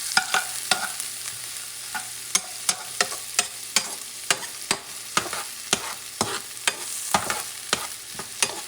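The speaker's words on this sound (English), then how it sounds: "Two, maybe three green onions chopped. Saute this baby very well" Chopped green onions sauté in a hot wok, a steady sizzle broken by regular sharp scrapes and clacks of the spatula stirring, close and fairly quiet with no talking.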